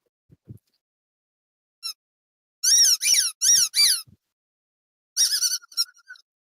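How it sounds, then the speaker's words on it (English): A squeaky dog toy squeaks in a quick run of about four sharp, close squeals, then a second burst of rapid squeaks, with faint thumps in between. "did your dog hear the squeaky toy?"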